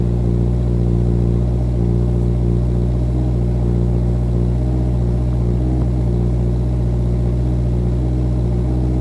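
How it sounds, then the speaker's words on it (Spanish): A motorcycle engine runs steadily through its exhaust system, giving a constant loud low rumble close by, with no talking. "intentar mejorar el sonido del sistema de escape, intentar que lo capte bien"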